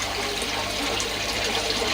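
Water gushes from an opened tap into a garden pond, a dense, steady rushing and splashing that stays loud and close for the whole brief stretch.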